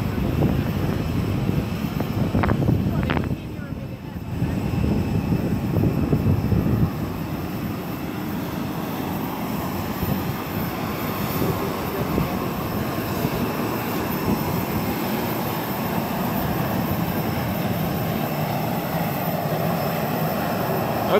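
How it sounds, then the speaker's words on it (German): A small propeller airplane hopping between islands in the Azores drones loudly and steadily from inside the cabin, with a brief clatter early on before the engine roar settles into a constant rumble. "wie das aussieht, wenn man auf den Azoren mit dem Flugzeug von Insel zu Insel hüpft"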